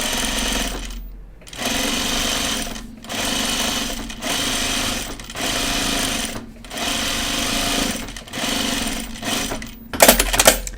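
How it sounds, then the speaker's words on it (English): Sewing machine stitching a pocket bag directly onto a garment, running loud and steady in long bursts separated by brief stops, with a sharper rattle at the end. "I'm just going to stitch it down right directly onto the garment."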